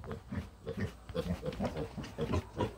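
Pig grunts come in a steady series of short, low, snorting bursts, close by and fairly loud, with no talking.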